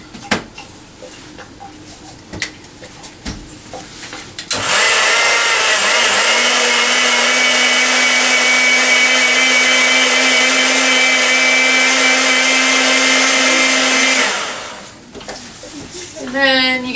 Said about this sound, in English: So all you need to do is grind them up to start with.